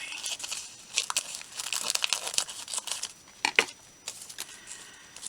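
Paper being cut and handled for a junk journal craft: steady crisp rustling and crinkling up close, broken by a few sharper snips and rips, with no talk.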